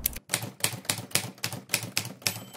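Low-profile wireless mechanical keyboard with clicky blue switches being typed on, close and loud, with sharp clacking bursts of keystrokes repeating in a steady rhythm of about eight clusters and no voices.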